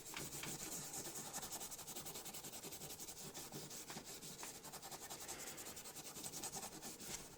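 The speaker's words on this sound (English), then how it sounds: "Before I do any paint, we always Scotch-Brite." A Scotch-Brite pad scuffs a 3D-printed 1:32 scale Bronco model body before painting, producing a steady, fast rhythmic rubbing scratch close to the microphone and quiet overall.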